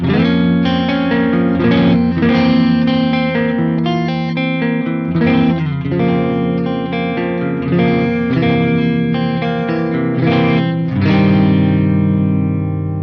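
Electric guitar played through a lunchbox amplifier on its clean channel: a continuous run of strummed chords and ringing riffs, loud and close, with no talking over it.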